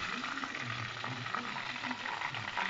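A battered zucchini flower stuffed with ricotta and anchovies fries in hot oil, giving a continuous close crackling sizzle with small irregular pops throughout.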